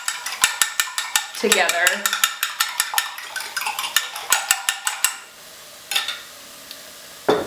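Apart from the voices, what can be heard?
whisking egg into broth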